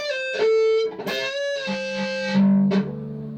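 A slow, distorted electric guitar line from a song, with sustained, buzzing notes that slide between pitches, loud and close.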